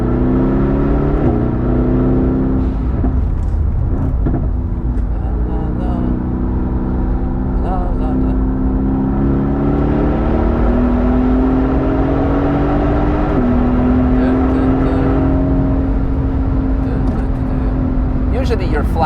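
Mercedes-AMG GT S with a defect lapping the Nürburgring, engine droning loud and steady throughout with rising harmonic pitch as it accelerates, under occasional talk.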